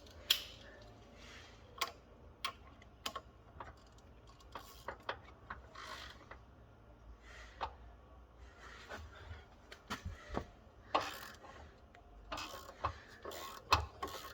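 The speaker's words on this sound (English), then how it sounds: "I want to try and feel it with the ratchet" A hand ratchet works on the harmonic balancer bolt of a Jeep XJ, faint scattered clicks and metallic knocks in short bursts with pauses between, quiet and close in a garage.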